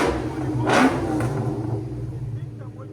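Up close, the supercharged 4.6-litre V8 of a 2003 Ford Mustang SVT Cobra with headers and Borla exhaust revs once in a loud rising burst, then settles back to a rumbling idle.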